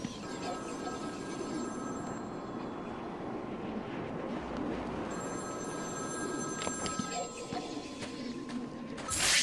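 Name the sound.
telephone ringing in the video game Batman: Arkham City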